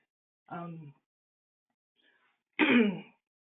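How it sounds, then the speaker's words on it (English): Two short throat-clearing bursts separated by a pause, close and fairly loud against silence. "trying to clear my throat"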